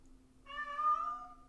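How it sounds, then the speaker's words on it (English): A domestic cat gives a single drawn-out meow from a hallway, clear and tonal but a little distant, with a quiet room around it. "you meowing at me from the hallway"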